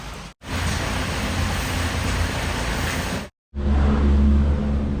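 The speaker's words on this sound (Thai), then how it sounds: "ฝนตกไม่หยุดเลยฮะ" Heavy rain at a campsite in Nakhon Nayok, Thailand, hisses in a dense, steady wash with a low rumble beneath, cut by two brief silent gaps.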